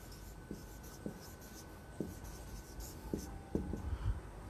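A pen writes on paper in an accounts book, with soft, quiet scratching strokes and small taps repeating at irregular intervals over a faint steady background hum.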